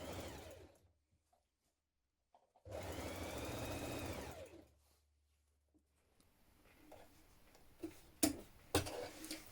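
A home sewing machine stitches a back lining seam on a winter coat in one steady run of a couple of seconds, followed by quieter handling clicks and rustles.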